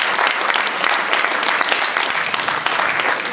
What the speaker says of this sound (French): Merci de l'applaudir très très fort s'il vous plaît